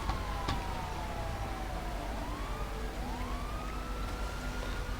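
A police siren in the video game GTA V wails in long rising and falling sweeps, distant and faint over a steady background hum.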